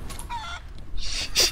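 Chicken clucking in the video game Divinity: Original Sin 2, a few short, bright squawking clucks in quick succession, close and clear.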